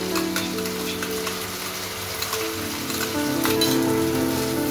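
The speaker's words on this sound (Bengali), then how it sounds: "এবার টমেটোটা একটু ভেজে নেব।" Besan and tomato puree frying in a pan give a continuous, fairly loud sizzle with a soft crackling texture, holding steady and swelling slightly toward the end.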